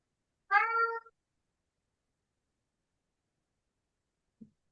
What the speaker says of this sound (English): That's a cat, not a dog.